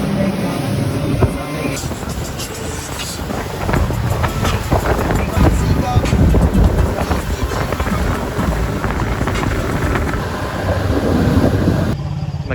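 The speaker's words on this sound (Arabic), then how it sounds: "جابوا لنا قارب اضافي، القارب بعجل وماشي على الارض" An amphibious boat on wheels rolls over land toward the sea in New Zealand, its engine rumbling steadily under heavy wind buffeting the microphone, with faint voices mixed in.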